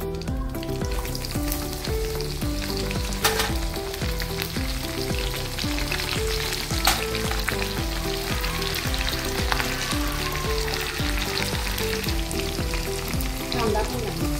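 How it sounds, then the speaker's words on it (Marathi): Mustard seeds and green chillies sizzle in hot oil, a continuous close crackling fry with dense popping spatters throughout, steady and alone without talk. "मोहरी घालूया थोडी, अर्धा चमचा मोहरी, त्यात मिरची पण घालून द्या।"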